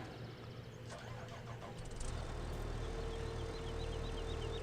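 A wheel loader engine in Farming Simulator 17 cranks and catches, then settles into a steady low diesel rumble with a faint high whine, heard alone at moderate level.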